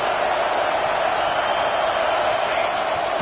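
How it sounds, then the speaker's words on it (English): A dense stadium crowd roars steadily at a football game, a continuous loud wash of cheering and noise with no breaks. "This crowd rising up, sensing that its defense needs some help."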